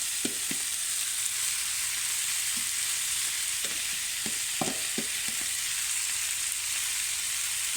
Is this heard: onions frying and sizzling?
yes